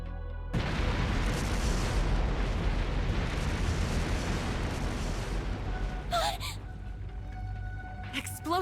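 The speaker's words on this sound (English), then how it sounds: "Explosive artifacts!" Explosive artifacts detonate in the video game Trails through Daybreak, a loud sustained roaring blast that rumbles for several seconds before a brief sharp burst and fading debris sounds.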